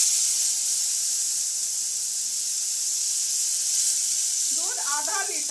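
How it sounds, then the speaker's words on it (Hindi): Milk poured slowly into a pan of roasted vermicelli gives a steady, loud broadband hiss and sizzle that holds through the whole stretch, with a brief burst of voiced sound near the end. "अब धीरे धीरे दूध डालूंगी।"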